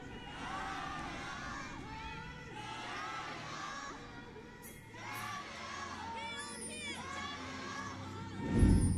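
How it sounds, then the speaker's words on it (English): A large crowd at a League of Legends esports match cheers and shouts continuously at a distance, with voices rising and falling and a brief louder burst near the end. "You can hear them cheering for their team"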